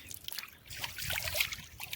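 Water trickles and splashes softly in a pond at a botanical park, a steady low babble with faint bright droplet sounds, heard from a short distance with no talking.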